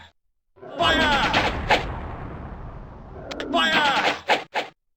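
A gunfire volley in the fantasy strategy game Warhammer: Shadow of the Horned Rat comes as two loud crackling bursts of massed musket shots with short decays, ending in a couple of sharp cracks, and game voices are heard.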